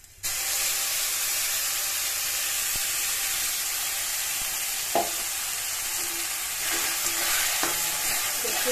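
Loud, continuous sizzling and hissing as a ground spice paste hits hot oil in a wok and is stirred, with occasional spoon scrapes and clinks over the steady fry.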